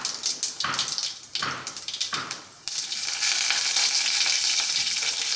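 Dried fenugreek, garlic and green chilli frying in hot oil, steady close sizzle broken by several sharp bursts as the spices hit the oil, then a continuous loud hiss.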